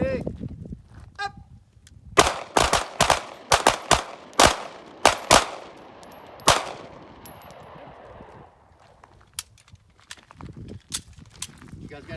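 A Langdon PX4 Carry pistol fires a 3-2-1 drill on an outdoor range: sharp, loud shots come in quick groups with short pauses between them, followed by quieter handling sounds.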